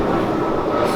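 An airplane flies overhead above a home garden, a steady broadband roar that holds evenly loud through the whole short moment with no voices.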